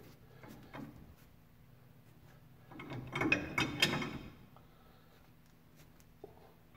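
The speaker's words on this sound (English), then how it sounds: "I got my wrench, and I'm going to spin this And I'm going to slowly tighten that down." A wrench ratchets as it tightens a bolt on the original-equipment front disc brake of a 1969 Ford Mustang: close, quiet clicking and metallic handling noises, with a denser burst of ratcheting in the middle.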